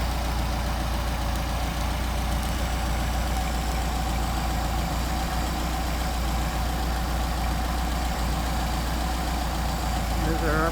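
A car engine with a Solex carburetor idles steadily at about 750 RPM, a constant loud hum with a faint rhythmic knock running throughout.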